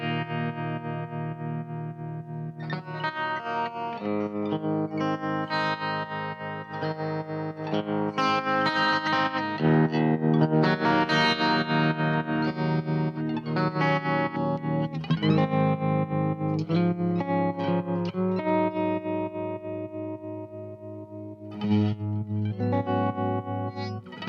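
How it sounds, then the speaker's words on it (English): An electric guitar plays chords and notes through a vintage Fender amp with a pulsing tremolo effect, the volume wavering rhythmically throughout, no voices. "Listen to the tremolo."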